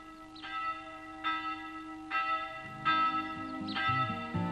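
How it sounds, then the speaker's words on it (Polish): Church bells ring for a village wedding, struck in a slow repeating rhythm of bright, ringing peals that swell and overlap, fairly distant and moderately soft, with no voices. "Kościelne dzwony ogłaszają dzisiejsze radosne wydarzenie."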